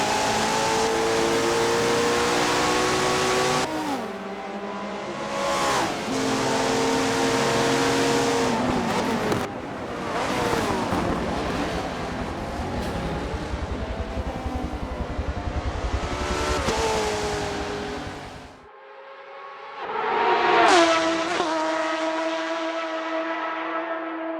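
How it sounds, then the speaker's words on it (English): A McLaren Senna race car in Forza Motorsport 7 at Monza, engine roaring loud and near through repeated high-revving climbs and sharp drops at gear changes, with a brief lull before it surges again. "I'm going to be driving this beautiful McLaren Senna for a 15-minute race"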